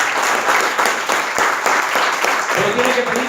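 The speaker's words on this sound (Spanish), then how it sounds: "Dale un fuerte aplauso al Señor." A church congregation bursts into loud, dense applause during a pastor's sermon, a continuous wash of many hands clapping, with a voice rising over it toward the end.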